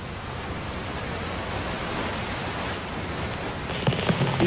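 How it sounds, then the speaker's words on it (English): Heavy rain pours steadily at sea around a ship awaiting a surfacing submersible in the Indian Ocean, a dense, even hiss throughout with a few faint knocks near the end. "It kept raining harder."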